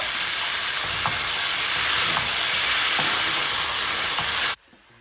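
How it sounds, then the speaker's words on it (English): A tin of chopped tomatoes is stirred into a hot pan for shakshuka, giving a loud continuous sizzle with occasional spoon scrapes, close by. It cuts off abruptly just before the end. "Now goes in a tin of chopped tomatoes, just a good mix."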